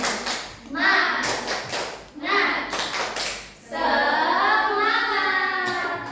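Children in a classroom lesson clap on the teacher's cue, short bursts of hand claps alternating with a voice giving prompts, ending in a longer stretch of chanting voices.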